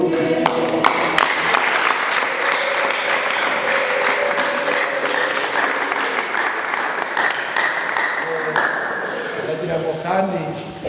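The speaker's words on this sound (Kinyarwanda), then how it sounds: "Komera Imana yacu amashyi" A church congregation applauds steadily through a worship service, the dense clapping mixed with voices and crowd noise that carry on beneath it throughout.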